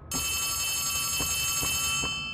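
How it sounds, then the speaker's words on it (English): Telephone ringing in the Poppy Playtime Chapter 3 video game: a sustained, bright electronic bell tone with faint pulses about every half second, steady and fairly loud with no talk. "Oh yeah, the phone's ringing for me."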